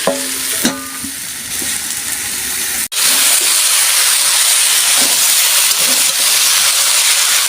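Mixed vegetables for panchmishali chochchori fry in a pan, with clinks of stirring at first, then a sharp clatter followed by a loud, steady sizzle and hiss that continues close by, without speech.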